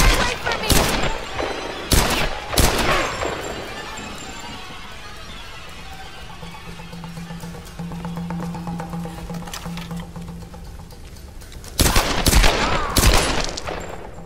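Gunfire in the 2013 Tomb Raider video game, with sharp loud bursts of shots near the start and again near the end, separated by quieter ambient game sound.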